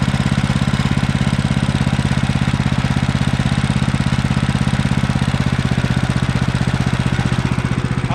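A Woodland Mills HM130 Max Woodlander sawmill's small engine idles steadily and loudly at close range, its fast even putter holding constant throughout with no voices.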